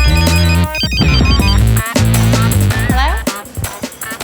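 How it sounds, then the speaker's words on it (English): A mobile phone rings loudly and close, its electronic ringtone melody playing continuously with layered tones and a brief pause, heard alone without talk. "phone rings"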